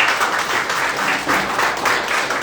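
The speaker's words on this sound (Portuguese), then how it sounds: "dando a sua melhor salva de palmas para Jesus" A church congregation gives steady, full applause after a worship service, a dense wash of many hands clapping together at close range that swells and eases slightly throughout.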